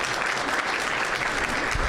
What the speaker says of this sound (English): Please give Christian an applause as well.